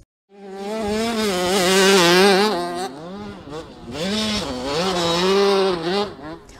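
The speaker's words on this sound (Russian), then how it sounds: "Оглушающий рев моторов, жуткая пыль и предельный накал эмоций." Motocross motorcycles race at a championship in Elista, their engines roaring in a loud, continuous buzzing drone that rises and falls in pitch as riders rev and shift, with a brief dip midway.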